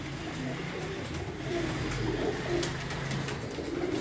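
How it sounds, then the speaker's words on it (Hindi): Champion racing pigeons coo softly in a low, steady murmur against faint background hiss, no talking. "तो हम दोबारा से आपको दिखाते हैं वो लाखे कबूतर, वो चैंपियन कबूतर के जिनकी वजह से उस्ताद जमील बाट साहब चैंपियन"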